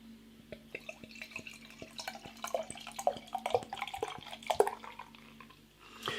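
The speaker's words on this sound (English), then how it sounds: "Beer in the glass." A 13% ABV barrel-aged Belgian stout, De Struise Cuvée Delphine, poured vigorously from the bottle into a glass, a close gurgling, glugging stream with sharp drips and foaming fizz over six seconds, no talk.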